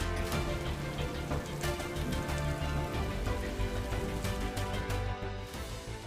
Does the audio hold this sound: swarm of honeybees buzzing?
no